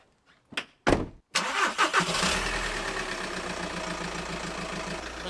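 A car engine cranks in a few short bursts, then catches and settles into a steady idle, heard up close with no one talking.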